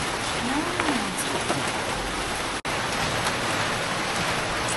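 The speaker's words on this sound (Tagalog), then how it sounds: "Alam ko maliligo lang sa ulan." Heavy rain pouring down outdoors, a dense, steady roar of drops that fills the whole scene without letup, loud and close, with no voices.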